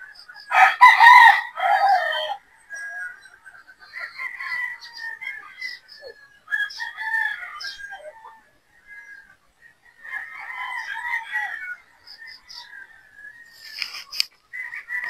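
Sweater gamefowl roosters crowing on a game farm, several loud crows and clucks in irregular bursts, some overlapping, with quiet gaps between them and no traffic or machinery behind.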